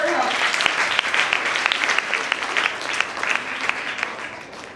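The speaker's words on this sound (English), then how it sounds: "Please give a big round of applause for her." An audience claps steadily at a Republic Day school assembly at Dawn High School in Hyderabad, a dense patter of many hands from a crowd of students for a pupil coming up to speak.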